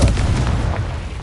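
A Confringo blasting spell explodes in Hogwarts Legacy, a loud, close, rumbling boom that fills the moment and fades out with a low tail.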